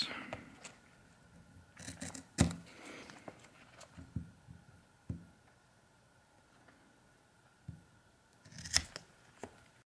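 Scissors cutting drybag material for a packraft kit, a few quiet snips and crinkles of fabric at close range with pauses between cuts.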